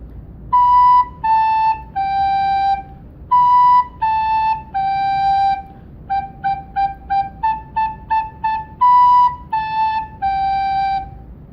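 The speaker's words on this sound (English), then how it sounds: "Now, if I think do, you're going to get a cleaner sound like this." Recorder plays Hot Cross Buns with each note tongued, giving clean, separated attacks. The descending three-note phrases alternate with a run of quick repeated short notes, close and clear, with no voices.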